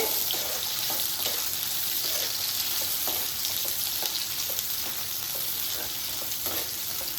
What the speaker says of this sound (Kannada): ಈ ಈರುಳ್ಳಿ ಕೆಂಪು ಬಣ್ಣ ಬರೋವರೆಗೂ ಫ್ರೈ ಮಾಡ್ಕೋಬೇಕಾಗುತ್ತೆ